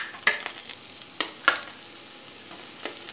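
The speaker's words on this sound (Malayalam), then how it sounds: "അപ്പോൾ ഞാൻ ഇഞ്ചി ഇതിലേക്ക് ആഡ് ചെയ്ത് കൊടുക്കുകയാണ്." Ginger drops into hot coconut oil in a pan. Close, bright crackling sizzle bursts out in a few sharp spurts over a steady frying hiss.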